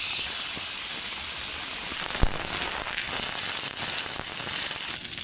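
Beef tallow sizzles and hisses as it drops into a hot pan at an outdoor wild camp cooking steak, a steady broadband frying hiss with a sharp crackle pop near the middle.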